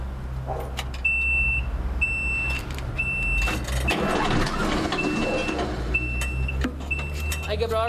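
A diesel engine cranks and then catches and runs after being bled, its rumble steady under a repeating electronic beep, with a voice now and then.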